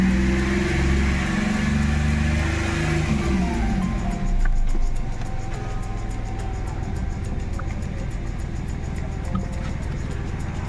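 A Hyundai Xcent's engine, after a clutch set replacement, hums loudly nearby with a rough idle throb; it swells briefly as the revs rise, then settles into a steady, even drone.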